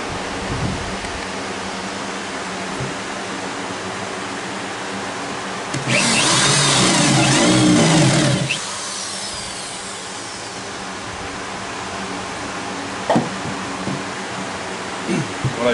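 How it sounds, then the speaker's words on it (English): A power drill bores a 13/16-inch hole into plywood for a bird feeder, a loud, steady whirring burst lasting a couple of seconds between quieter stretches of room noise. "What I do is I drill halfway through"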